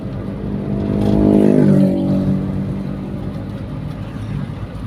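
A non-AC car engine fitted with a K5 vacuum carburetor idles steadily at about 1750 rpm, a low, even, continuous hum that swells briefly and then settles back to a constant drone.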